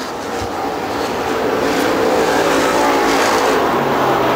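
Race cars roaring past at Dixie Speedway as Super Bomber stock cars jockey for position down the backstretch off turn 2; a loud, continuous engine roar with no gaps throughout.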